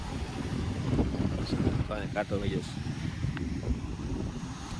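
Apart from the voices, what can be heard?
wind blowing at the seashore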